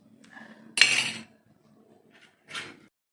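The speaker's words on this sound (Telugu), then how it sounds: "అన్ని గుడ్లు ఇలా కొట్టుకోవాలి." Eggs cracked into a bowl and beaten, two sharp clinking strikes against the bowl with a quiet pause between, close and otherwise quiet.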